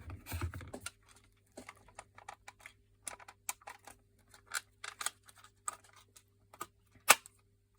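Scattered small plastic clicks and taps, close and irregular, with a louder sharp snap near the end as a Renault Twingo climate control panel part clicks into place.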